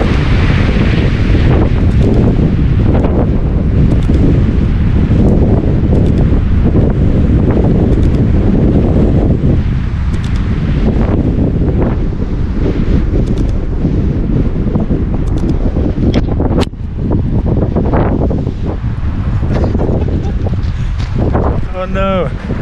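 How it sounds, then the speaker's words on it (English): Strong wind buffets an outdoor microphone on a rainy April day, a loud continuous low rumble with gusts, and a person speaks over it near the end. "Oh, I gotta get out of this wind!"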